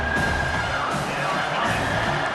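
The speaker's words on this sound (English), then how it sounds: "Here comes this home crowd as the defense tries to get off the field on third down." Home crowd at a football game as the defense faces third down, a loud continuous mass of cheering and yelling swelling around the stadium, steady and dense.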